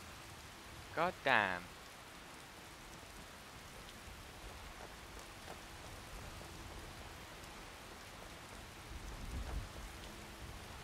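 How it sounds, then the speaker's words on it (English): Steady rain falling in the video game Skyrim, a soft continuous hiss that runs throughout, with a man briefly exclaiming near the start and a low rumble toward the end. "Oh yay, it's raining."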